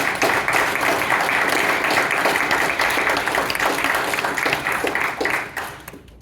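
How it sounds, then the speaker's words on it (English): A room full of people applauding a panel at a planning conference session, brisk and sustained, then tapering off at the end. "How about a round of applause for our panel?"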